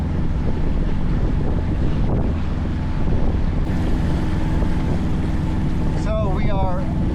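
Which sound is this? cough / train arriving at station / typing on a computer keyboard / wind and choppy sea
wind and choppy sea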